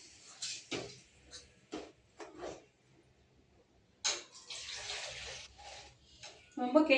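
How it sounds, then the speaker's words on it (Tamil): Water is poured into a pot of urindha kuzhambu in a short splashing stream between scattered quiet clicks and taps, followed by a brief louder clatter at the end. "தேவையான அளவு தண்ணி ஊற்றிக்கலாம்."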